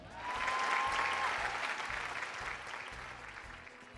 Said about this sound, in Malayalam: ഒരു കയ്യടി തന്നെ എനിക്ക്.